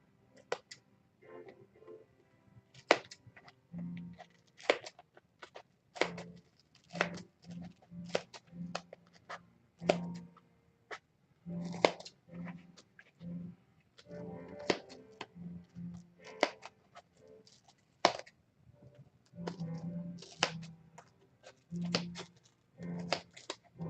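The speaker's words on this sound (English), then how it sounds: "gonna switch to my smaller scissors, carving out the jaw." Repeated crisp snips of small scissors carving out the jaw of a fursuit head, in irregular bursts of short clicks and slices, close and fairly quiet with brief pauses between.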